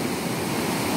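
Ocean waves wash onto the beach at Ventura in a brief, continuous rush of surf, close and fairly loud, with no voices.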